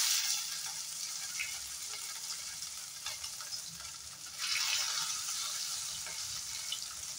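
Boiled potatoes sizzle in hot oil for an Assamese fish curry, a steady close hiss and crackle with a brief swell of frying partway through, no voices.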